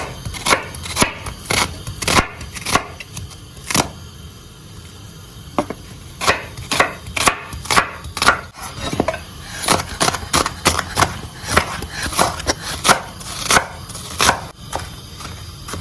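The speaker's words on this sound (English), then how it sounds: "we'll go ahead and chop our shallots." Shallots are chopped with a knife for Ghanaian salted fish pepper soup, giving a long run of crisp, close board taps, first spaced out and then faster and rhythmic, with nobody speaking.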